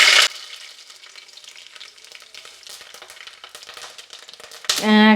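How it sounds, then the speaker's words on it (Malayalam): Mustard seeds and fenugreek splutter in hot sesame oil, a dense crackling hiss with rapid small pops, close by, framed by brief louder bursts of sound at the start and end. "കടുകും ഉലുവായും പൊട്ടി നമുക്ക് മുളകും കറിവേപ്പിലയും കൂടി ഇട്ടൊന്ന് വഴറ്റിയെടുക്കാം"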